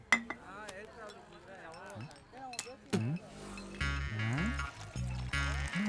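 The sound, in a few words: clinking glasses while mixing drinks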